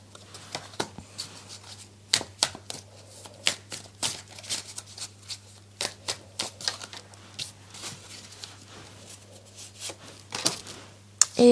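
Tarot cards are shuffled by hand before a reading, giving crisp irregular riffling and slapping bursts over a low steady hum, with no speech.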